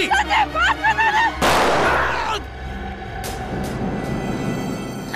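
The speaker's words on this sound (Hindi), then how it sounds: "मैं गोली चला दूंगी" Someone speaks urgently, then a single loud, close gunshot cracks out and rings into a fading rumble with faint noise after.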